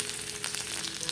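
Garlic sizzles in hot oil in a pan for a Kerala-style fish curry, a steady close frying hiss with no voices.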